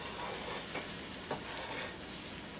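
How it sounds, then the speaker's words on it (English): A quiet, steady sizzle of egg cooking in a frying pan, with a couple of faint scrapes as it is nudged around. "You want to just kind of gently move the egg around as you see it starting to cook"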